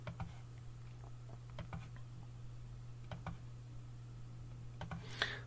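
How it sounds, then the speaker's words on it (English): A computer mouse is left-clicked repeatedly while drawing a curved shape in embroidery design software, giving sparse, faint single clicks at irregular intervals over a low steady electrical hum. "Everywhere it's going to change direction is where I'm left clicking."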